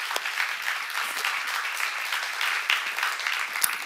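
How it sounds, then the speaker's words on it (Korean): Audience at a church seminar bursting into dense, steady applause, many hands clapping together for a few seconds with no talking. "박수 하나"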